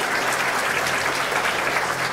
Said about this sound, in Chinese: 请给掌声